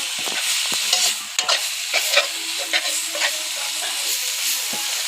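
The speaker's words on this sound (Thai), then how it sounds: "อันนี้ก็เป็นเมนูนูผัดพริกแกงครับ" Red curry paste is stir-fried in a pan with a continuous close sizzle, punctuated by scraping and tapping from the spatula, with no talking.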